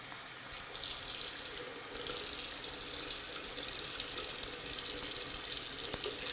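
Warm water runs from a tap into a sink, a steady hissing splash that starts abruptly, briefly pauses, then continues evenly and close up, with no talking.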